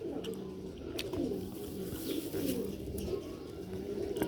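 A pair of Sialkoti pigeons cooing close by, soft repeated low coos in a steady rhythm with a few faint chirps and clicks around them.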